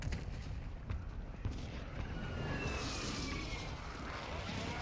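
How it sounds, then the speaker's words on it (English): Friendly airstrike explosions in a shooter video game, a dense rumble of booms and gunfire with a brief whistling aircraft pass midway, all heard at a fairly low level. "Friendly airstrike on the way."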